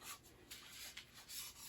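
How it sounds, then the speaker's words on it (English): A cloth dampened with isopropyl alcohol is wiped across a freshly wet-sanded painted finish on a Featherweight sewing machine, giving soft, quiet rubbing strokes that come in several repeated swipes close to the mic with no talk. "I've put a few drops of just isopropyl alcohol on there to get any of the things, any oils or contaminants out of the finish"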